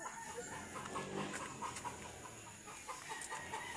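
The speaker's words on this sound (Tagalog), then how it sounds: "may manok. Ayun o." Chickens cluck intermittently outdoors beside a path leading toward a river, soft scattered calls over steady ambient background noise, with no talking.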